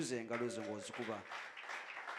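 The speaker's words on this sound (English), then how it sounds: "The way you are clapping." A church congregation claps for a bishop during a service. A voice speaks loudly at first, then a rustling spatter of audience clapping continues, moderately loud and somewhat distant.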